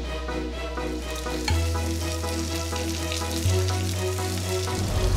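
Breaded monkfish cheeks coated in flour, egg and breadcrumbs fry in hot oil with a steady, dense sizzle that swells slightly as pieces go in, close and without talk.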